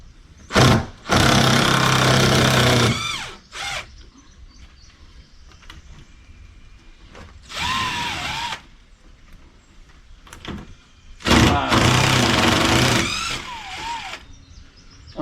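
Power drill backing screws out of a 3/4 inch PVC board, three loud whirring bursts of a second or two each, separated by quieter pauses, with no talking.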